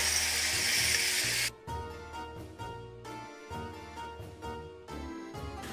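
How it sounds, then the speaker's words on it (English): Broth poured into a hot pan to deglaze it while making chicken cacciatore gives a loud, bright hiss for about a second and a half, then cuts off abruptly as background music carries on. "I'm also going to add just a little bit of my broth in here, just to kind of help with the deglazing."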